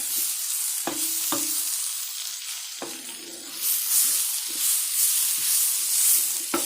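Spinach sizzles in a hot pan while being stirred, a steady hiss broken by several sharp scraping knocks of the utensil, the frying swelling louder toward the end.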